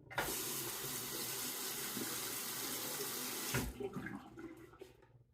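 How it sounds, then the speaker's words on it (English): A three-blade razor rinsed under steadily running tap water, a continuous hiss of flow for several seconds that cuts off, leaving faint drips and clinks. "even though there's 3 blades stuck together pretty closely, that's rinsing fairly quickly"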